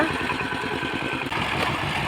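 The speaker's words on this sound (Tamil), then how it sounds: "பவர் டில்லரில் ஆள் வர சொல்லி பவர் டில்லரில் வட்டமும் கட்டிகிட்ருக்கோம்" A power tiller engine running on a farm, a steady, loud chugging drone with an even rhythmic throb and no pauses, close by.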